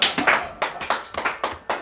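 Rhythmic congregation clapping in a church, about seven sharp claps in a steady beat, fairly close and loud with a faint hint of voices underneath.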